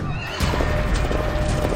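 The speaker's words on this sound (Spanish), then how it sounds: "Un caballo se asustó." A frightened horse lets out a loud, close whinny, brief and shrill, with hooves clattering around it.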